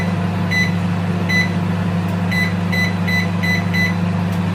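A microwave oven hums steadily, nearby and loud, while a series of short electronic beeps sound in small groups as a 35-minute timer is set for baking a marble cake.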